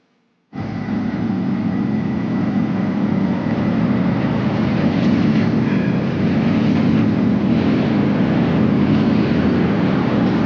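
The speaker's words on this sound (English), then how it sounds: "sharing the bridge with the subway isn't the best feeling in the world" Porto metro train crossing the Luís I Bridge, a loud, steady rumble and rolling roar that starts abruptly and holds close and continuous throughout, with no talking.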